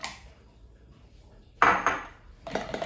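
Eggs cracked and dropped into a jug while preparing carrot cake batter, giving a couple of sharp clinks and knocks after a quiet start, with a final burst of clatter at the end.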